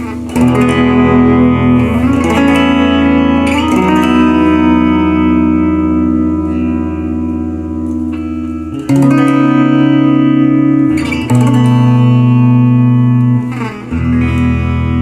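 A Squier Affinity Series Telecaster electric guitar played through its bridge pickup: loud, continuous strummed chords with distorted, effect-laden sustain and a few sharp changes, no voices.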